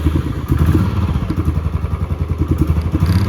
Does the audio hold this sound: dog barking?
no